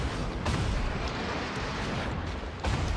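A naval video game battle in which an enemy Kerfur ship's secondary guns open up, giving a steady, dense roar of rumbling blasts and bursts with no speech over it.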